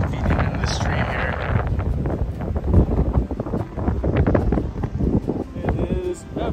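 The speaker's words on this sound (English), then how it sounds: "Also, it's really windy." Strong, gusty wind buffets the microphone in a steady low roar by a high lake on a Sierra Nevada hike at Rock Creek, with a voice talking over it.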